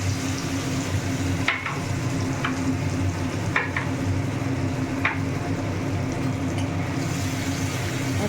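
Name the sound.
spice paste frying in oil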